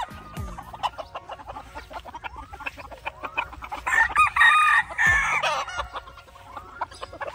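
At a chicken farm in Tay Ninh, a rooster crows loudly and close by, with hens clucking and other fowl calling in short bursts around it.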